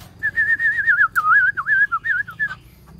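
A white-crested laughingthrush sings loudly and close by, pouring out a rapid, continuous run of bright warbling whistles that rise and dip for a few seconds before trailing off.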